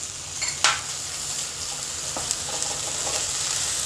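Garlic-ginger paste and chopped green chillies fry in a pan for Mughlai paratha, a steady soft sizzle broken by a few light scraping stirs of a spoon against the pan.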